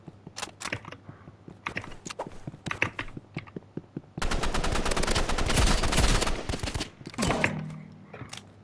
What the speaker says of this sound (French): Fusil d'assaut.